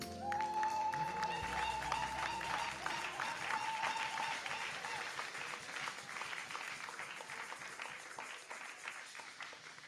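A church congregation at a Sunday service claps and applauds steadily for several seconds, a dense crowd sound that gradually fades, with a brief sustained tone near the start.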